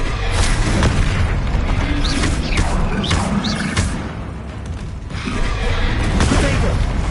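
Explosive spell blasts from Bombarda in Hogwarts Legacy on PS5 boom and crackle amid constant combat noise, with several sharp bursts and rumbling debris over a dense, loud background.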